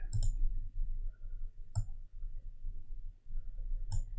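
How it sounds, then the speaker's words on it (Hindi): Three sharp, isolated mouse clicks while a node is dragged in graphic design software during a wrist watch design, spaced roughly two seconds apart over a low steady background hum. "इसको मैं क्लिक करके नीचे की तरफ ड्रैग कर रहा हूँ"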